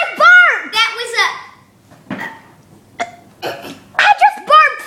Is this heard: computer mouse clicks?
no